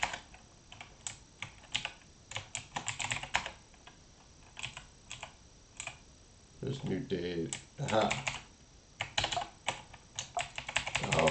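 Rapid clattering keystrokes on a mechanical computer keyboard come in uneven bursts while someone writes code, with a brief pause where a person speaks a few words before the typing resumes.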